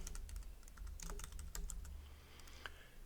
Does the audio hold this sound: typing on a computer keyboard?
yes